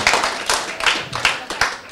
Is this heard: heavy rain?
no